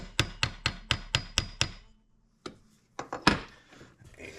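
A motorcycle countershaft on a 2008 Suzuki RM-Z250 is tapped through its bearing: seven quick, evenly spaced taps, a pause, then a few looser knocks, close and crisp.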